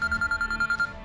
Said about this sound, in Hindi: सफदर शाह का फोन आ रहा है इसके पास।